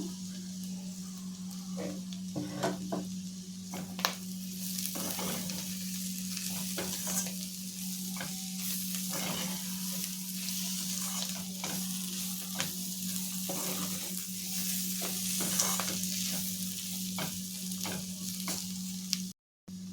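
Cluster bean (guar) fry sizzling steadily in a pan on the stove, with a spatula scraping and stirring at intervals as chopped coriander goes in; a continuous close hiss under sharp scrapes and a low constant hum, with no talk.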